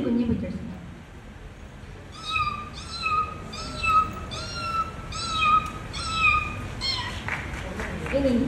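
A stage mimicry artist imitates a newborn kitten with a string of about seven short, thin, high mews in quick succession, preceded by brief speech.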